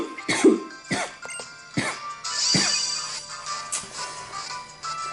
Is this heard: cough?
yes